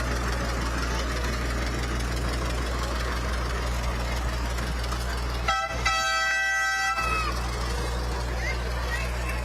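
A vehicle horn toots several times in a quick sustained burst during a Fourth of July parade, sounding loud and close over a steady low engine hum and crowd noise.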